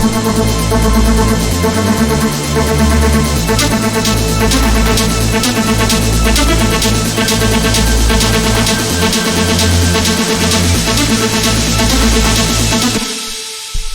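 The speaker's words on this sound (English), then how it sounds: "And then there's a pad over top of that, like playing all these big epic notes." Big sustained synth pad chords swell over a busy mainroom techno track, loud and continuous before cutting off near the end.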